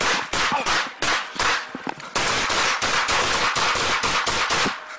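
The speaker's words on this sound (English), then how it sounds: "5-7 shots fired, subject down." Sacramento police officers fire their guns at a suspect outside a residence: loud, sharp gunshots in rapid overlapping bursts for several seconds, with brief gaps between volleys and no speech.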